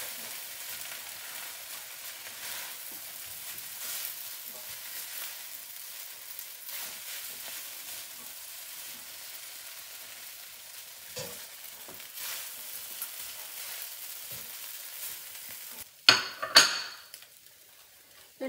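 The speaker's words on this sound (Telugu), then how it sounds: "మన స్టిర్ ఫ్రై ఇంతవరకు ఫ్రై అయిపోయింది" Noodles with tofu stir-frying in a pan: a steady, soft hiss of sizzling that runs throughout, ending in a brief burst of louder scraping and clattering as the pan is stirred.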